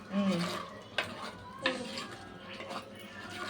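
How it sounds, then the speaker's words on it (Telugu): Onion paste fries in oil in a clay pot, a steady sizzle under occasional metallic stirring scrapes and utensil clinks, close by. "ఆనియన్స్ అనేవి బాగా ఆయిల్లో కొంచెం ఆ పేస్ట్ అంతా ఫ్రై అవ్వాలి"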